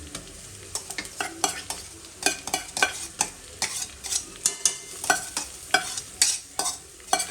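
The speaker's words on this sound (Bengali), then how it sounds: "তো এটাকে মোটামুটি আমি একটু কষিয়ে নেবো 1-2 মিনিটের মতো।" Ginger-garlic paste with onions and green chillies being stir-fried for a kanti chicken recipe: a spatula scrapes and knocks the pan in a steady, repeated rhythm over a continuous close sizzle, with no talking.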